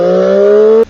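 A motorcycle engine pulls hard with a loud, steady rising whine, then cuts off abruptly as the rider shifts gear, leaving a brief lull just before the end.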